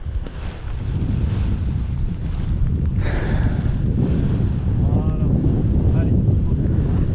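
Wind gusting across an open paragliding launch site, a steady loud rush with low buffeting rumble on the microphone throughout, with faint voices briefly audible partway through.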